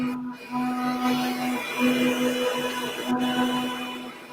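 A machine hums steadily with a tonal whine and faint rattling, like a 3D printer running, with brief clicks near the start and after three seconds.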